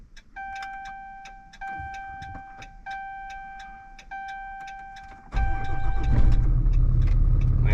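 A Dodge Ram engine starts and settles to an idle, inside the cab with an intermittent steady electronic chime pulsing beforehand, the low engine rumble swelling loud near the end.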